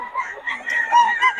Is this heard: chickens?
yes